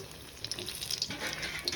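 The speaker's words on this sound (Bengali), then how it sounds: "তো এগুলো লাল লাল করে ভাজা হবে।" Pumpkin flower fritters (bok phool bora) frying in hot oil, a soft continuous sizzle and crackle, close and moderately quiet, with brief scraping stirs from a spatula as the pieces are turned.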